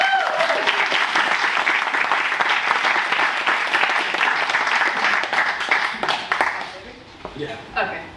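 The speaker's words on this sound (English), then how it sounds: "Let's give her a round of applause." Audience applause after an introduction at an evening home insurance coverage and savings talk, dense steady clapping for several seconds that thins out and fades near the end, with some voices mixed in.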